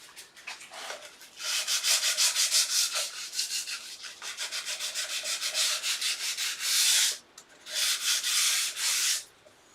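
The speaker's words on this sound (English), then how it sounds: "I'll just get the sandpaper and take that furry bit out." Sandpaper rubs by hand across wood on a dovetailed bedside cabinet, smoothing a furry patch in a cut, producing loud, close, steady rasping strokes in long continuous runs with short pauses, with no talking.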